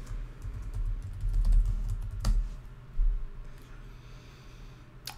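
Clicky computer keyboard typing while entering an IP address into a self-hosted Open Media Vault server's web interface, a quick burst of keystrokes early on, then sparser taps, close and fairly quiet, no talking.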